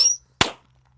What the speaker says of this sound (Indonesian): Di sini ada mercon roket mini.